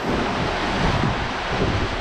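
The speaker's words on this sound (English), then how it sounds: "we've got about 20 knots of wind" Strong wind of about 20 knots and breaking waves while sailing a boat on the open Pacific, a loud continuous roar of gusts buffeting the microphone over rushing surf, with no voices.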